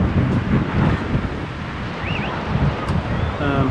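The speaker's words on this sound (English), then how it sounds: "It gets really windy up here as well." Steady, loud wind buffets the microphone on a clifftop above a beach in Newquay, Cornwall, a continuous roaring rush with faint surf-like wash beneath.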